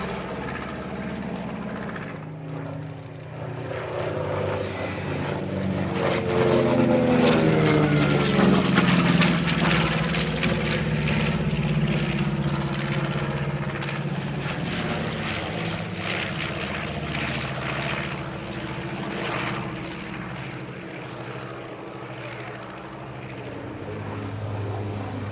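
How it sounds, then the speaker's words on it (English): Flying Bulls B-25 propeller bomber passing at an air show, a loud throbbing piston-engine drone that swells toward the middle and slowly fades, with crowd ambience underneath. "Also from the Flying Bulls is this B-25"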